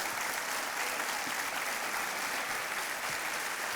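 Studio audience applauding steadily on the Kaun Banega Crorepati game show, a dense, even wash of clapping that holds at constant loudness throughout with no voices over it.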